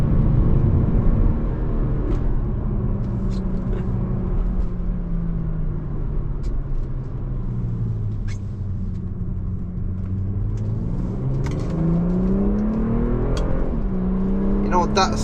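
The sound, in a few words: BMW M340i G20 engine accelerating in Sport Plus mode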